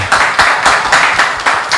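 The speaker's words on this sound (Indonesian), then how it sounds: "boleh tepuk tangan dulu dong untuk kedua narasumber kita" Audience clapping for two guest speakers at the close of a panel talk, heard as about six rhythmic swells of applause across a short stretch, fairly loud and with no voices over it.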